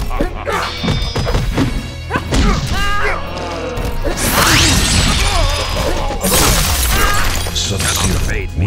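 Fight impacts from the Mortal Kombat video game, with dense thuds, whacks and crashing blows landing in quick succession, mixed with swooshes and game music throughout.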